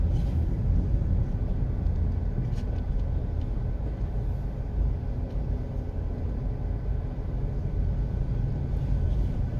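Interior rumble of a car driving through the Ziadie Gardens neighborhood in Kingston, Jamaica, a steady low road-and-engine drone with faint scattered ticks, continuous and unchanging.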